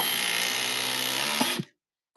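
DeWalt power tool running on its smaller battery, a steady high-pitched motor whine that holds for about a second and a half, then cuts off abruptly into silence.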